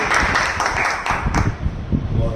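Audience applause at a motivational team meeting in a hall, a dense steady wash of many hands clapping at close range for a couple of seconds.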